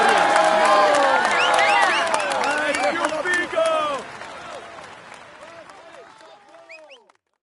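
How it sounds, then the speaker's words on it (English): Stadium-style crowd applause and cheering for a stage winner in the Tour de France 2017 video game, loud and dense at first with whoops, then gradually thinning and fading out. "Come on, let's applaud him once more."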